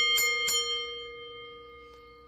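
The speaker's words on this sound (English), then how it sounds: "let me ring the bell here" A bell is struck twice in quick succession near the mic, and its bright, steady tone rings on and slowly fades.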